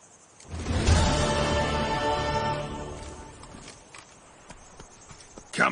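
Hooves of Roach, the horse in the video game The Witcher 3, clip-clopping in a brisk rhythm that builds loud and then fades, with a faint snort or whinny and background music underneath.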